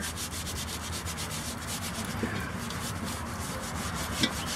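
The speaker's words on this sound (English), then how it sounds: "Rubbing it with the glove" A glove rubs over a cast iron Dutch oven in a steady, continuous scrubbing rasp, fairly quiet and close, with a couple of faint knocks near the end and no voices.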